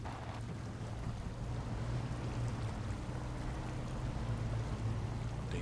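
A truck ploughs through deep water in the off-road driving game SnowRunner, its engine droning low beneath a continuous rushing, sloshing wash of water that holds steady and loud throughout, with no talking.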